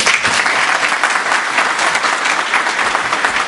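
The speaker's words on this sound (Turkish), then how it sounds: "Alkışlar gelin hanım ve damat bey" A crowd of wedding guests applauds the bride and groom at a Turkish ceremony, sustained close-up clapping from many hands that stays loud and even throughout.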